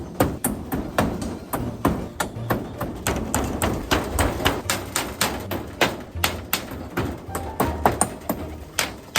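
Repeated hammer blows driving many nails to fix a cover made from old bed boards over a hole in a pigeon loft, sharp close strikes in an irregular steady rhythm with no talk.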